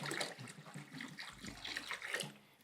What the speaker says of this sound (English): We're gonna take the cold water, we're gonna add it to the hot water, and make it warm water.